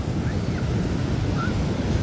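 Steady wash of waves breaking on a beach, a continuous broadband roar at an even level without distinct individual crashes.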